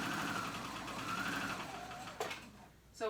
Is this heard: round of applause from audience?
no